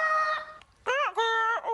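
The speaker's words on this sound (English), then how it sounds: "Wonder what kind of sound a Humpty bird would make." A cartoon Humpty bird calls twice, loud and close, in harsh crowing squawks much like a rooster, with no other sound around them.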